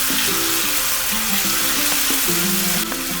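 A potato mixture roasts in a pan with about a spoonful of salt, giving a constant hiss and sizzle in the foreground. A few faint tonal squeaks sound beneath it.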